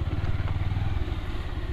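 A Bajaj Pulsar 150 motorcycle engine runs close by on a river crossing, a loud, steady low throb with rapid rhythmic pulsing and no talk over it.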